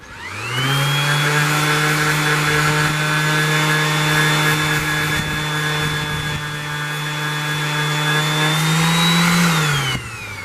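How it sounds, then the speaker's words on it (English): A handheld orbital sander works over a repaired terracotta garden pot with a steady, loud motor whine that holds for about ten seconds and then drops away at the end. "the other option, if you've got one, is to use, and is always handy to have and buy, an orbital sander"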